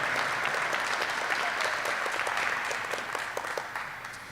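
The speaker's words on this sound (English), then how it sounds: "How about a big round of applause for our newest Occupational Medicine Residency graduates" Audience at a U.S. Army Aerospace and Occupational Medicine Residency graduation ceremony claps steadily for the new graduates, a dense sustained wash of applause that tapers slightly toward the end.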